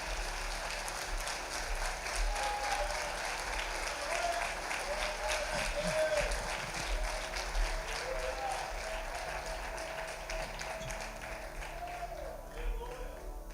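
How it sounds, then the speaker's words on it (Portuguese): A church congregation applauds during a Sunday service, sustained loud clapping filling the hall for the whole stretch with some voices mixed in. "você pode aplaudir bem forte o nome dEle"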